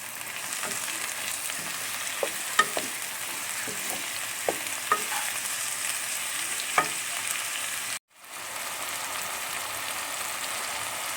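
Mushrooms and onions frying in a pan for a chicken dish with a steady sizzle, punctuated by scattered clicks and scrapes of stirring, briefly cutting out once.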